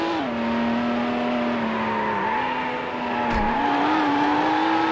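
Engine of a race car in Need for Speed Hot Pursuit 2, a steady loud high-revving drone with gear shifts and pitch dips, alone without talk.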